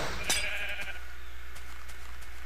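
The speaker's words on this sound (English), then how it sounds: "Ah, here's some sheep." A sheep in the Minecraft video game gives a short bleat near the start, followed by quiet game ambience.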